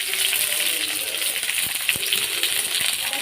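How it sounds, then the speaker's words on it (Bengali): Chopped onions and green chillies frying in hot oil give a bright, steady sizzle, close and continuous, with a few sharp clinks of a utensil against the pan. "তেলটা গরম হলেই পেঁয়াজ দিয়ে দেবো এই যে কুচনো পেঁয়াজ আর কাঁচা লঙ্কা তো দিয়েই দিলাম"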